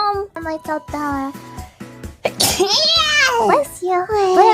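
A childlike voice makes a quick high sneeze burst amid animated, excited talking and squeals, close and loud.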